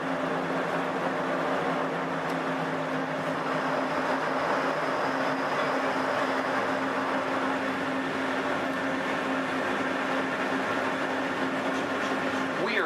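Disneyland monorail train gliding into Downtown Disney Station, a steady, even mechanical hum with a sustained tonal drone, heard from inside the car throughout.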